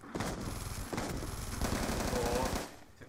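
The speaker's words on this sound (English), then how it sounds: "someone else trying to shoot me up" Rapid automatic gunfire in the video game Black Ops 2 on the Standoff map, dense loud bursts of shots in quick succession with a brief break, then a sustained volley that cuts off.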